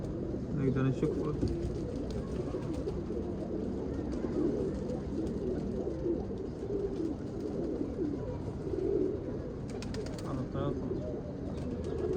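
Pigeons or doves cooing softly in repeated low phrases over steady background noise, with faint chirps mixed in.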